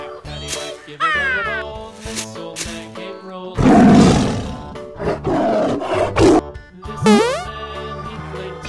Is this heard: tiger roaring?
yes